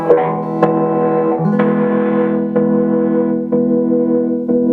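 A Kay Effector electric guitar plays sustained chords with its built-in echo effect switched on, each strum ringing out and repeating through a wash of trailing echoes, loud and clear with no talking.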